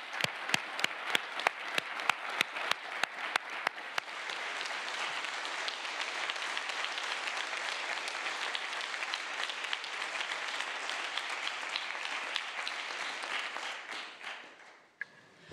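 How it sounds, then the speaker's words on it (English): Applause for student officers at a Model United Nations opening ceremony: a few sharp separate claps at first, then swelling into dense, continuous applause from a large hall, tapering off near the end. "Let us now give a final big round of applause to all of our student officers."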